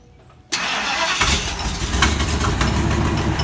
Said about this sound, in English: we're going to fire it up and see if it still sounds like a pack of Harleys